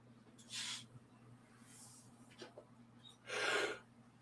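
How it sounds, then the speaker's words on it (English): A person yawns in two breathy bursts, a short one early and a longer, louder one near the end, up close over a low steady hum in a quiet room. "Got the yawns."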